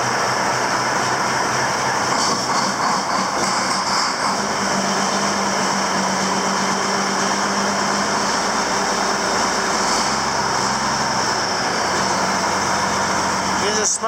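A Mack truck diesel engine turns over from a cold start and settles into a steady, loud idle that drones continuously for the whole stretch.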